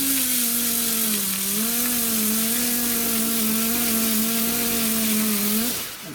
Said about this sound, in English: while I'm grinding, it's also cutting and treating the metal that I'm sanding all at the same time